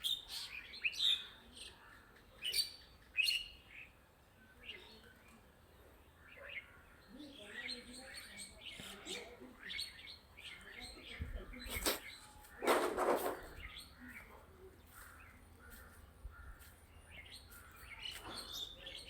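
Scattered bird chirps and calls on a foggy, quiet morning, faint and intermittent against near silence, with a brief louder rustle partway through.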